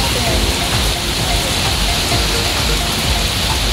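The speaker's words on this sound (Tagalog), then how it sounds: "Pumapatak na naman ng ulan sa bubong ng bahay." Steady rain patters on a house roof with a dense, even hiss, continuous and close throughout.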